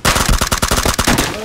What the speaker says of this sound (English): Yeah, it was Tommy gun.